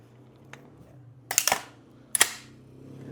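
The bolt of an airsoft gun is racked back and forth in two quick sharp mechanical clacks, close and loud, after a quiet lead-in with a faint tap.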